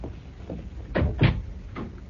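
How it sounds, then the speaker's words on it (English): An office door is pushed shut, giving a few dull, close thuds and clunks in quick succession with no voices. "please come in and close the door."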